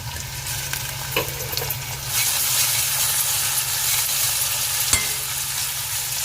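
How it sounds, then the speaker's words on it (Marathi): Onion and garlic fry and sizzle in a pan while being stirred, a steady close hiss with occasional scrape and clink of the spoon, growing slightly brighter partway through, with no talking. "असा ब्राऊन कलर येईपर्यंत आपल्याला कांदा आणि लसूण परतून घ्यायचा आहे"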